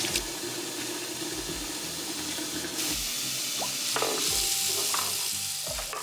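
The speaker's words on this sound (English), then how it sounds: "get some hot water going" Hot water runs steadily from a tap into a stoppered sink, a continuous broadband rush with a few clinks and knocks, close and fairly loud.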